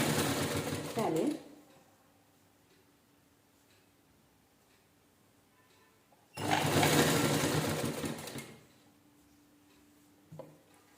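A sewing machine stitching old T-shirt fabric into a doormat runs in two short bursts of fast, loud whirring, separated by a quiet stretch with faint handling clicks.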